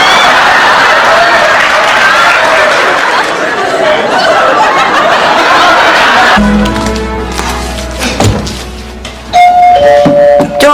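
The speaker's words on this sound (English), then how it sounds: "Doorbell." A doorbell rings indoors in a sitcom scene, a short chime sounding after several seconds of steady crowd murmur and audience chatter, followed by more tonal ringing near the end.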